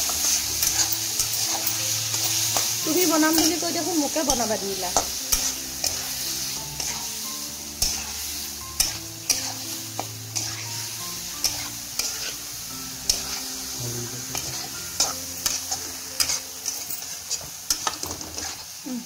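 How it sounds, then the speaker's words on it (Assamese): Spiced vegetables with ground coriander and red chilli sizzle steadily in a pan while a spoon stirs and scrapes through them, clinking against the metal in frequent close knocks; a brief voice speaks over the cooking. "এতিয়া এই আটাইখিনি ধুনীয়াকৈ ভাজি ল'ম।"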